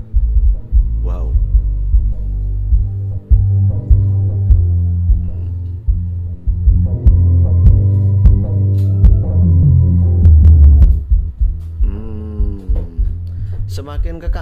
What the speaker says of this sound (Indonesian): dari suara bass yang jelek-jelek menjadi suara bass yang dung-dung ini